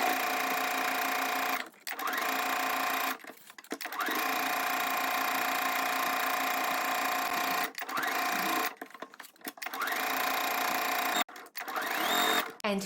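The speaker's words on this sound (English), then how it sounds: "Sew the side seam and pockets with a 1/2 inch seam allowance" A sewing machine stitches the side seams and pockets of a shirred spring dress in long steady runs of whirring, broken by several short pauses.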